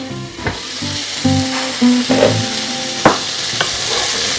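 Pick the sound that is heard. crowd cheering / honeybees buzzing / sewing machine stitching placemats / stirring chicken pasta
stirring chicken pasta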